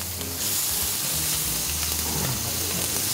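Chicken pieces fry in a pan with a loud, continuous sizzling hiss that swells slightly after a moment, close by, with faint low bumps of handling underneath.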